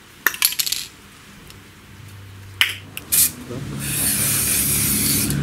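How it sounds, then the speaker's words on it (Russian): An aerosol can of liquid spray-on clothing fabric sprays straight onto a body, a loud, steady close hiss in the last second and a half, after a few sharp clicks and rattles of handling the can. "Распыляю содержимое прямо на тело."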